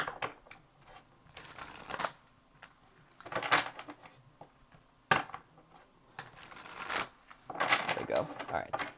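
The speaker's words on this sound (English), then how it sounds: "And 1 more shuffle" Close, crisp riffling and slapping of a tarot deck being shuffled in several bursts with brief gaps, a voice murmuring lightly in between.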